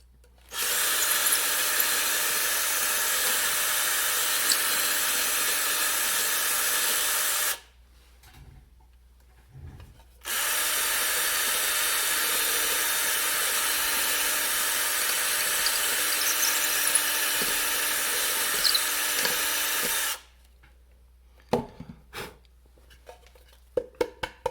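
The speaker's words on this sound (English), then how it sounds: "drill to clear the chips out." A power drill whines steadily in two long bursts, boring out wood chips from a chiseled hinge mortise in a wooden box side rail, with a short pause between and scattered clicks and knocks afterward.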